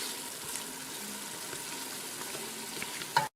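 A fish and okra soup base frying gently in a pot, a soft, steady low sizzle with faint stirring that cuts off abruptly after a brief clunk.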